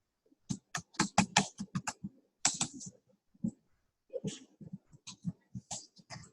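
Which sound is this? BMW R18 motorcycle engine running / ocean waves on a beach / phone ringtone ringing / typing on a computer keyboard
typing on a computer keyboard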